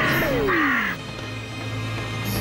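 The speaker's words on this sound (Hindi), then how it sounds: "अरे ये कौवा हमको ही खा जाएगा।" A cartoon crow gives a single loud, close caw with a falling, squawky tone. Background music plays softly under it.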